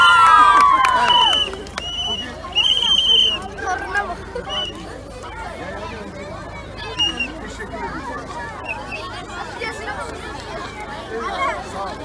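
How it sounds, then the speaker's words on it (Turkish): Children at a pedestrian road-safety event in Tunceli cheer and shout in a lively crowd, loud at first and then settling into steady excited chatter and babble, with an adult voice over the noise. "Alkış."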